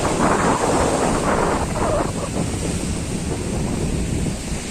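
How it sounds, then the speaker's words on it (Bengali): Rough sea surf surges at Digha beach in a continuous, loud roar of breaking waves, with wind buffeting the microphone throughout. "তো প্রচুর জল উঠছে, একদম জল একদম লাফালাফি করছে পুরো একদম"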